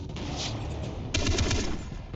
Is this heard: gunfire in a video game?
yes